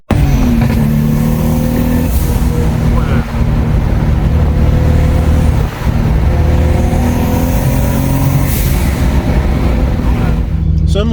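A Lexus IS200 fitted with a Toyota Supra 2JZ engine and big turbo roars loudly and revs up repeatedly, pitch climbing then dropping at each gear change, with a rushing whoosh over the top.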